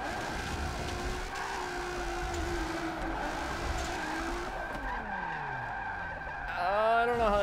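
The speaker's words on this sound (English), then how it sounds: "get the car sideways through this whole section." Racing car drifting sideways in Forza 7, driven on a Logitech G920 wheel without a handbrake: a loud continuous engine drone with tire skid and squeal, pitch sweeping as gears shift, then rising revs at the end.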